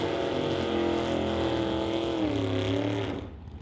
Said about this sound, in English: we have got cars moving from under the bridge